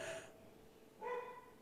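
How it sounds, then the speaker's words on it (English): A dog gives two short, faint barks, one at the start and another about a second later, with quiet room background between them. "Okay, sorry about the dog."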